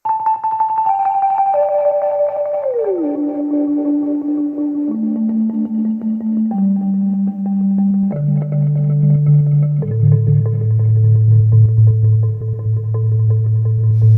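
Low, mellow marimba tones from a Mellotron M4000D sample played at half speed, a slow descending line, each note sustained and pitched deep, with a gliding bend early on.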